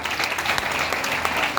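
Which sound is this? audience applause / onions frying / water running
audience applause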